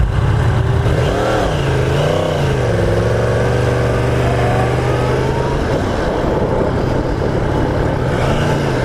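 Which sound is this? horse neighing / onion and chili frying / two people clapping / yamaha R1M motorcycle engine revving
yamaha R1M motorcycle engine revving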